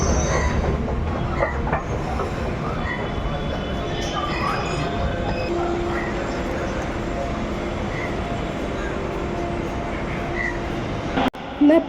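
A Delhi metro train runs along the track with a steady rumble and faint wheel squeal, loud and continuous from inside the carriage, ending in a brief sharp knock.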